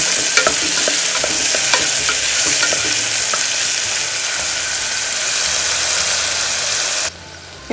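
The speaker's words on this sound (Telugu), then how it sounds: "నెక్స్ట్ మనం ఇందులో పచ్చిమిర్చి, ఉల్లిపాయ వేసి పచ్చివాసన పోయే వరకు వేసుకోవాలి." Green chillies and onions fry in hot ghee with cloves, cinnamon and cardamom, giving a loud, steady, close sizzle and spatter with faint stirring ticks that runs unbroken for about seven seconds before suddenly cutting off.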